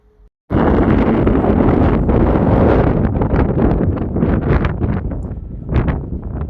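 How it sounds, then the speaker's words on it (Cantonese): Strong wind buffets the microphone in a loud, continuous roar with rough gusting surges, starting abruptly after a brief quiet moment. "俾你哋感受下現場嘅風聲，真係好大風㗎"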